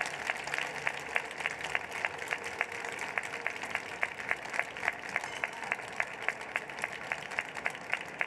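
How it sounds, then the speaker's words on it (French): Audience applause at a French book event fills the room, a steady wash of many hands clapping from middle distance, even and sustained throughout with no voices on top. "vous pouvez les applaudir et ce sera les 30 dernières secondes."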